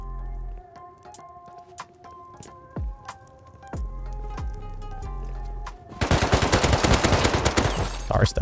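Gunfire in the survival game Rust: scattered single shots over a steady tonal background, then a loud dense burst of rapid automatic fire in the last few seconds.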